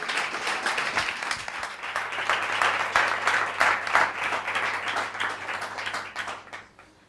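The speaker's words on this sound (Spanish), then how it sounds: "por favor, un aplauso para Cristina" Audience applause for a researcher from the University of Valladolid taking the stage at a beer chemistry science talk in a bar, a dense wash of many hands clapping that swells, holds steadily and fades away toward the end.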